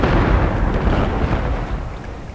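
Heavy gunner units open fire in Shogun 2, a dense, continuous roar of massed gunfire and booming blasts that stays loud throughout before easing slightly at the end.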